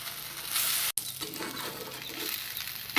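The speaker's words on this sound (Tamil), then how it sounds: "எண்ணெயிலேயே ஃப்ரை ஆகிருக்கணும்." Brinjal frying in oil for a Tamil-style eggplant thokku, a steady close sizzle with stirring scrapes, briefly cut to silence near the one-second mark and then resuming without any talk.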